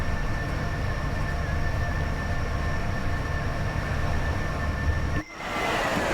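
Class 87 electric locomotive passing in Train Sim World 5 on the West Coast Main Line between Preston and Carlisle, a steady loud rumble with a sustained tonal whine, then a sudden drop as it goes by.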